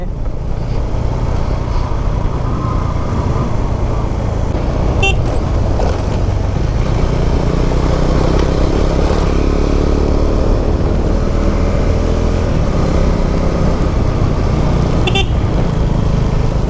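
Cars and other vehicles pass along a winding mountain road between Kaas and Mahabaleshwar, a steady loud engine and road roar with short horn toots breaking through, no talking.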